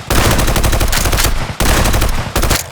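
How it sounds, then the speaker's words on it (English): Heavy bursts of automatic gunfire, loud and close, in two sustained rattling volleys separated by a brief gap, with no voices. "add real gun Foley, which of course I'm using from our gun sound effects pack"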